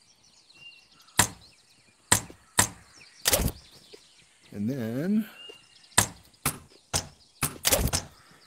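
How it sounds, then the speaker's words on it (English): Nails hammered in the VR game A Township Tale: sharp, loud metallic strikes spaced about a second apart, a quick double hit, then a faster run of blows near the end, with a brief spoken phrase between them. "Hammer them in."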